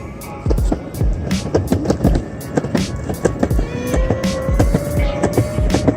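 A Yuneec E-Go2 electric skateboard rolls downhill on pavement, its wheels rumbling close and loud with repeated clacks over cracks and a rising whine from the motor.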